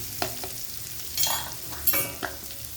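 Onions frying in a pan with turmeric powder for eggplant fry give off a steady close sizzle, with spatula scrapes and stirring clatters recurring every half second or so.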